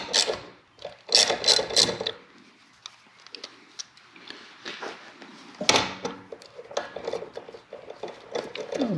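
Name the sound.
ratchet with 10 mm socket loosening bolts on Kawasaki H2 750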